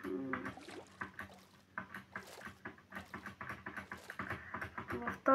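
A boat moving across water in Minecraft, with short splashing and paddling bursts repeating in an irregular rhythm, quiet and close with no talk over it.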